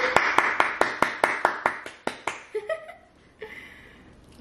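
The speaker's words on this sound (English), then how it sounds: "Can I get some applause from the crowd?" A dozen even, crisp hand claps ring out in a steady rhythm, then trail off into a few scattered, quieter claps with a brief pause and a last isolated clap at the end.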